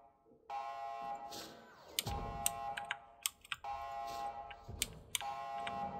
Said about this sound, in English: Key card slides through the reader with a beep and the sound of a lock disengaging.